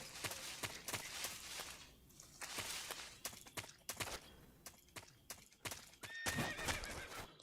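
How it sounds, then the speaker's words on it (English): A horse whinnies in a video game amid repeated sharp clip-clop and rustling sounds, with a higher drawn-out neigh near the end; moderately loud, busy game ambience. "Oh, you hear that? That's a horse."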